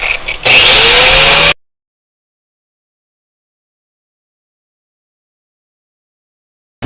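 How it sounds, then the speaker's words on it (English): An angle grinder cuts through a metal step-up bar support on a truck, giving a loud, bright, sustained whine for about a second before it stops abruptly, followed by silence. "we got room in here to pass the grinder on this side now"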